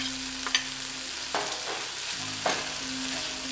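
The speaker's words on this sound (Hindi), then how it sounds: "अब हम इसमें पनीर ऐड कर देते हैं और हीट को हम हाई से मीडियम पे कर देते हैं" Paneer is stirred into paneer bhurji frying in a pan over medium-high heat, a steady close sizzle with a few spoon scrapes and clinks against the pan, and no voices.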